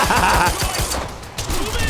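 Rapid gunfire from an unlimited-ammo weapon in Quantum Break, a fast string of close, sharp shots with a brief pause before the firing resumes.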